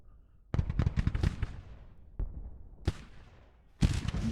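Gunfire in the Civil War strategy game Grand Tactician: The Civil War, heard as bursts of crackling musket volleys with rapid overlapping shots, then a lone report, another sharp shot and a final loud volley, with no talk.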